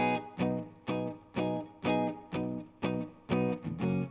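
Distorted guitar chords of the pre-chorus of a song are strummed in a steady rhythm, about eight evenly spaced hits, fairly quiet and close, with no voices.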